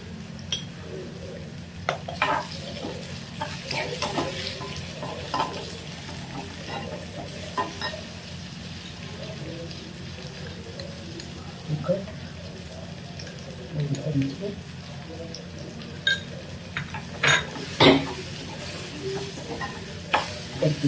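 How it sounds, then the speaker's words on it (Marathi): Boiled egg bhurji sautéed with turmeric in a pan over a full flame, a low steady sizzle under intermittent scraping of a spoon and clinks against the pan, growing busier toward the end. "परतून घ्यायचं."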